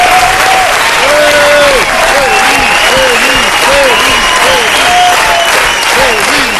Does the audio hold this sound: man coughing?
no